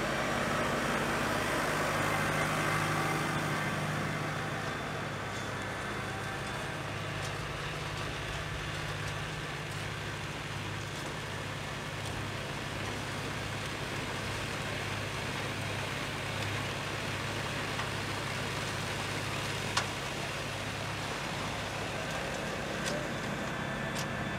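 A new tractor's engine runs steadily while sowing green manure in a field, a faint, even drone that continues without a break, with a few small clicks near the end and no voices.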